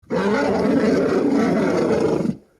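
A single long dinosaur roar rings out as a sound effect, loud and close, a deep rasping growl held for about two seconds before it cuts off into silence.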